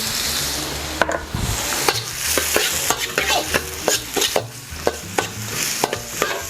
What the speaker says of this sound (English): So we only need to stir fry this for not even a minute, just so that the onions become translucent.